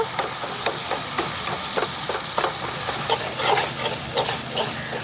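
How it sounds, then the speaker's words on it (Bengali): Tomato pressed and mashed into a spice mixture with a spatula in a pan, giving irregular close knocks and scrapes against the metal over a faint sizzle. "টমেটোটা একটু খুন্তির সাহায্যে একটু থেতো করে নেব"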